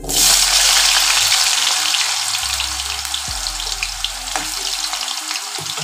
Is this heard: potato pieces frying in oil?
yes